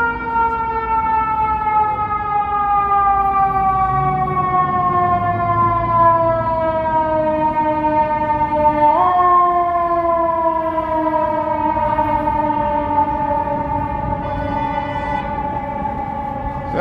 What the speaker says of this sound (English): Here comes some sirens. Ambulance.